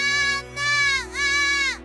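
A distressed goat searching for her kids gives two loud, wavering bleats close by, each about half a second long, with no other sound around them.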